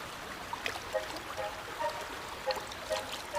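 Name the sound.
river Glemgia flowing through valley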